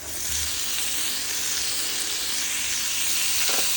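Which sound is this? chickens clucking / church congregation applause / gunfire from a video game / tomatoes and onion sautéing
tomatoes and onion sautéing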